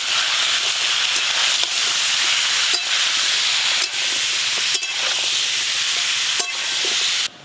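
Vegetables for khichuri, including carrot and egg, fry in a kadai with a loud, continuous hissing sizzle and occasional stirring clatter, no voices over it.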